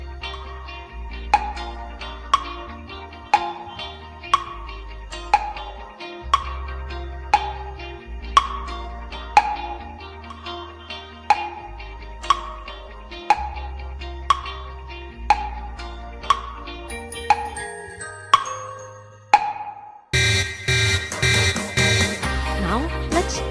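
Countdown timer track with a steady beat of regular ticks and a pulsing low bass tone for about twenty seconds, then a sudden loud buzzing alarm bursts in at the end.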